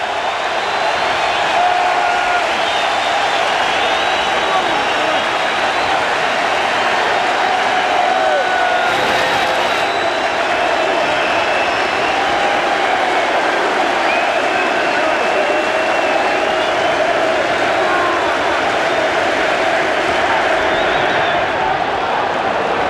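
A large crowd at a Cubs-Yankees baseball game in the 8th inning roars loudly and steadily, with cheering and clapping swelling around a commentator's voice.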